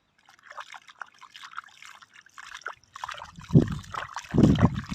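Water trickles and splashes intermittently as a freshly caught crab is washed, with soft dribbles first and then heavier, closer pours near the end; no talking.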